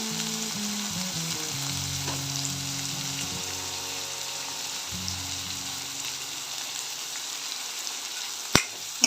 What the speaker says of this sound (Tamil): நல்லா வதக்கிக்கலாம். இதோட பச்சை மிளகாய் சேர்த்துக்கோங்க.